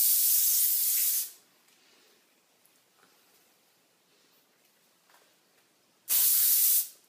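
Hair spray hisses onto hair in two loud, close bursts, one at the start and one at the end, with a quiet pause between them.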